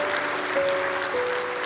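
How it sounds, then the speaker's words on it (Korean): A church congregation applauds in encouragement at a Korean ordination service, steady dense clapping filling the room at moderate loudness, with a faint sustained tone running underneath. "우리 잘하라고 격려의 박수 부탁합니다."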